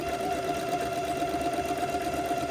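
A home sewing machine runs a zigzag stitch along a long seam of a funeral pall, a steady, close mechanical whir with a fine rapid rattle that holds evenly throughout.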